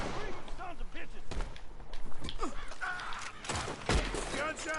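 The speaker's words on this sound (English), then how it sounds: "Gunshots are coming from that barn." Gunfire in the Red Dead Redemption 2 video game, with rapid shots and booms cracking through a busy scene while characters shout and talk over the shooting.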